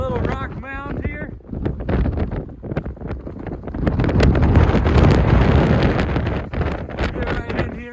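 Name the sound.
strong wind on a mountain pass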